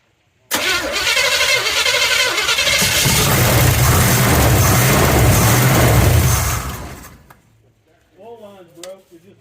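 A 1972 Chevelle engine cranks briefly, then fires and roars loudly for several seconds before shutting off, with a voice speaking afterward.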